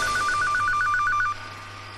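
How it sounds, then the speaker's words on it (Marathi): A telephone rings indoors with rapid repeated electronic trills for over a second, then stops, leaving a low steady background hum; no one speaks. "अरे फोन वाजायला लागलाय"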